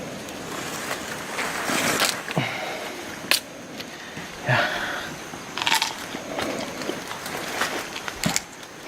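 Crunchy bites and chewing of raw heart of palm foraged in a jungle, a series of sharp, close crackling crunches spread irregularly over several seconds with no speech.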